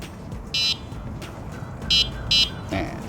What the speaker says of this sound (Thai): แล้วก็อีกปุ่มหนึ่งก็จะเป็น ปุ่มแตรนะครับ